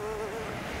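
A fly buzzes close by with a steady, sustained drone, loud and alone with no talk.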